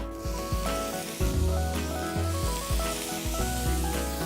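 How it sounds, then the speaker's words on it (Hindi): Chopped asparagus sizzles as it drops into hot butter in a pan, a soft steady frying hiss sitting beneath louder background music. "हम ये एस्पैरागस इस बटर में डालेंगे।"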